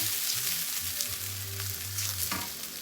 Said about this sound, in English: we're gonna add a little garlic to it. And I don't want that garlic to burn, so I put a very small amount because that skillet was hot